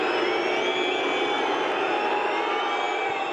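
A loud, steady roar from a packed football stadium crowd cheering a goalkeeper's save by Ederson in a Manchester City match, a broad sustained wash of voices with no breaks.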